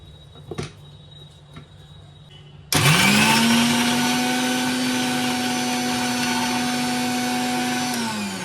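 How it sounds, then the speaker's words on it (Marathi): A kitchen mixer grinder whirs into loud, steady grinding of green chilli, ginger and coriander after a few faint clicks, its motor tone holding strong for several seconds before easing slightly at the end. "मिरची आलं कोथमीर वगैरे सगळं हे वाटून घेऊया आपण"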